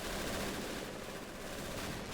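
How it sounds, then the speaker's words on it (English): Gunfire and explosions from the Men of War Assault war game, with US Special Forces, Rangers and Airborne storming a fortress amid 20mm guns, form a dense, continuous barrage of shots and blasts with no pauses over the whole stretch. "look at that explosion"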